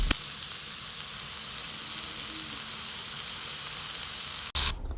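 A mixture with pepper powder fries in oil over low heat, giving a steady, close hiss of sizzling that runs evenly before a brief break and a louder burst at the end.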